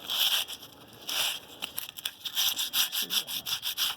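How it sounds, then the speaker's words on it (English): Rough sandpaper is rubbed by hand over a rusty split ring wheel rim from a 1952 military deuce and a half truck, giving close, rhythmic scratchy strokes in quick repeated bursts. "There's some rough sandpaper."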